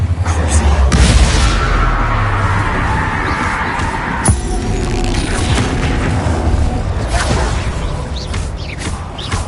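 Bombarda blasting spell in a video game, heard as a deep booming explosion with whooshes, repeated bursts and a crash midway, loud and close, with faint crowd-like noise underneath.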